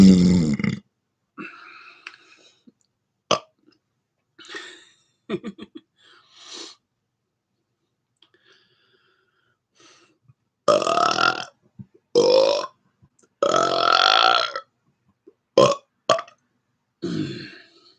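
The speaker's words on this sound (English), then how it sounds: "he's been requesting closed mouth burps" A person doing a series of closed-mouth burps, a dozen or so close, throaty eructations of varying length separated by silent gaps, some short and clipped, others long and rumbling.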